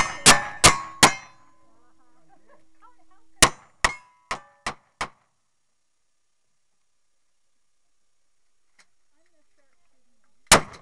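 Shots strike steel targets at a timed shooting stage, giving bright metallic clangs that ring out: three quick hits, a pause, then five evenly spaced strikes, and one last clang after a long quiet gap.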